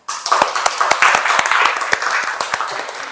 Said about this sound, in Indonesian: Sekali lagi, aplaus dulu buat kalian.